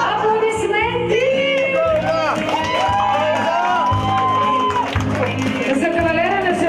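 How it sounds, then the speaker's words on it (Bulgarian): Crowd at a festive celebration bursts into applause, cheers and whoops, loud and continuous, layered over live music with singing and a steady beat. "Аплодисменти!"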